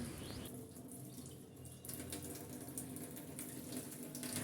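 Water runs steadily from a tap as dusty potted plants are washed, a continuous hissing splash that dips briefly then resumes at moderate loudness.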